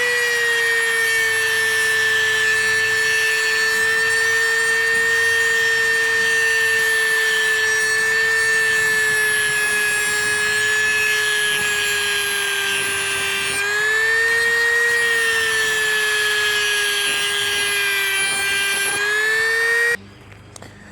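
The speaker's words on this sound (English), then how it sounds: "So we've just got our Dremel now. Just going to start it up, and we're just going to cut the collar off." A Dremel rotary tool cutting through a locking collar during a Ford Falcon AU rear wheel bearing repair, a loud, steady high-pitched whine lasting about twenty seconds with slight dips under load before stopping.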